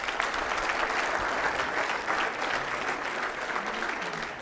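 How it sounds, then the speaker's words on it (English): A large audience at a university staff all-hands meeting applauds their colleagues, a thick continuous roar of clapping held steady throughout. "So please give your colleagues a round of applause."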